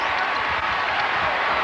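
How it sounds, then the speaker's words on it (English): A roaring crowd fills a college basketball arena during a North Carolina versus Duke game, a dense, steady wall of cheering and noise that holds loud and unbroken throughout. "And this crowd roars after that moment,"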